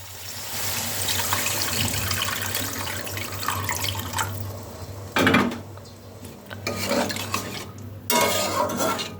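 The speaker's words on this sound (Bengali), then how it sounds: "এবার আমি এর মধ্যে জল দিয়ে দেবো।" Water goes into cooked-down masala in a kitchen pan amid splashing and running-water sounds, with metallic pot and utensil clatter and a couple of louder bursts of pouring, close and continuous with a low steady hum beneath.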